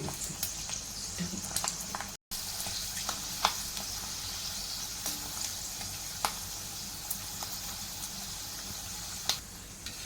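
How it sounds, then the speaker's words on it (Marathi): Sabudana and potato sandge frying in hot oil make a continuous hissing bubble with scattered small pops and crackles, steady throughout. "आता आपल्याला फ्राय करायचे आहे सांडगे"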